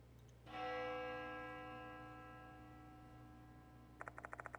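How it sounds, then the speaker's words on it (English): A bell in a video game strikes once and rings loud, with a long, slowly decaying metallic tone that holds for several seconds. A quick run of bright, evenly spaced chimes follows near the end. "Sound of a bell echoes in my ears."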